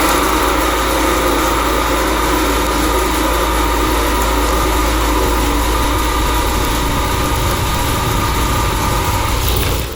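A CNC lathe cuts a metal workpiece with a loud, steady mechanical drone and a high whine that holds evenly for the whole stretch, then cuts off abruptly at the very end.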